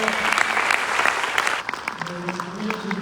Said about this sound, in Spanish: un aplauso a ti